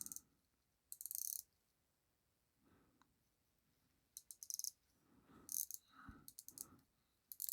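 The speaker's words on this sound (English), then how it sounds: "Bezel action on the Mako is a bit stiffer." A 120-click dive watch bezel, the stiffer one on a Zelos Mako V3, gives short bursts of crisp ratcheting clicks separated by quiet gaps, recorded close and alone.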